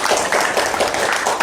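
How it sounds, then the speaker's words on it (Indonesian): Applause from an audience for a presenter, a steady wash of hand clapping running through the whole moment, moderately loud with no voices above it. "Tepuk tangan untuk Mr. Tem"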